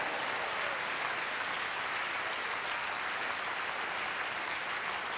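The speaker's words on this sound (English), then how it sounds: "Somebody give God a hand clap for that." Church congregation applauding during a sermon, a steady, even wash of many hands clapping together that holds at full strength throughout with no pauses and no voices rising above it.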